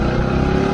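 A car engine revving briefly in third gear while rev-matching for a downshift, a steady, close, loud hum with a faint rising tone over less than a second.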